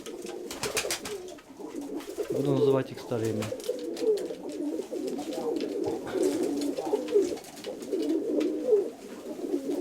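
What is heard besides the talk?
pigeons cooing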